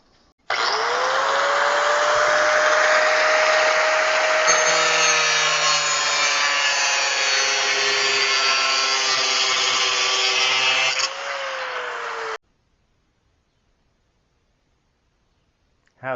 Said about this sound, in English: How's that for cutting metal?